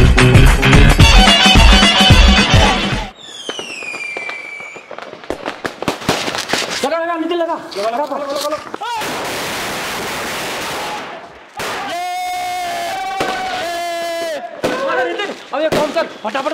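Diwali firecrackers going off on a street, a series of sharp, loud bangs and crackling bursts with whistling rockets, and people talking between the explosions.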